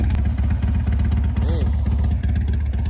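A Harley-Davidson motorcycle engine rumbles loudly and steadily up close for the whole stretch, a continuous throaty drone without a pause.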